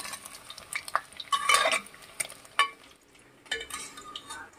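Eggs frying in hot oil in a pan for egg curry, with crackling sizzle punctuated by metal utensil clinks and scrapes, close and fairly loud in bursts.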